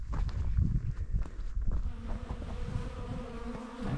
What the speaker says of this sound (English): bunch of bees there.